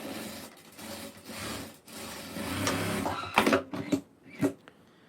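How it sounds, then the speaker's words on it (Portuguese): A sewing machine stitching a folded fabric seam, running in a steady mechanical whir that stops and restarts in short bursts toward the end, with no talk over it. "vou fazer uma pequena dobra e vou costurar aqui com uma margem de aproximadamente"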